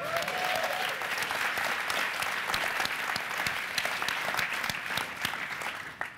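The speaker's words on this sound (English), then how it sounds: "let's clap it up for Steve Smith" A crowd at a social media Q&A event applauds for Steve Smith, many hands clapping in a thick continuous wash that holds steady throughout and fades slightly at the very end.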